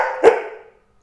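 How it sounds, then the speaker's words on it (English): A single sharp dog bark sounds close and loud, trailing off into quiet after a brief echoing tail. "What are you barking at?"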